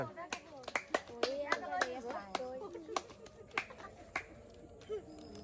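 A small group claps for a child during a playful banknote-naming game, giving scattered, sharp handclaps in short bursts beneath close talking, with a voice among the speakers.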